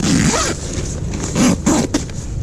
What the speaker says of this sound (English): And then we're just going to zip that up.